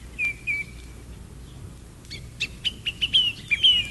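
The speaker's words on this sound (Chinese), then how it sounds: "那个国度拥有许多花般绚烂的珍稀鸟儿，非常美丽，有白鹤、孔雀、" Several small birds chirp and tweet in short, bright calls, a few at first and then a quicker burst of repeated notes, close and clear over a quiet background.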